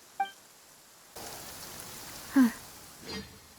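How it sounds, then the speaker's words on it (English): Steady rain falls in a Genshin Impact game scene, a soft even patter with a few brief louder splashes and a short tone near the start. "It's been raining non-stop for a few days now."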